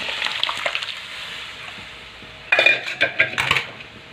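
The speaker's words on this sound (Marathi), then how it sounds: "आता आपण जी शिजून घेतलेली डाळ आहे ना, ती थोडीशी अशी पळीने मिक्स करायची आणि या फोडणीमध्ये ओतून घ्यायची" Cooked moong dal poured into a hot tempering and mixed with a ladle, giving clinks of metal against the pot and soft liquid sloshing, close by, with a busier burst of clatter toward the end.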